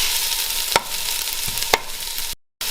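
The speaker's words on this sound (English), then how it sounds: "I'm adding the garlic, and I'm going to leave that, I'm going to cook that for a few seconds now" Garlic cooks in a hot pan in a chili curry with a soft continuous sizzle, broken by two sharp clicks, then a brief cut to silence near the end.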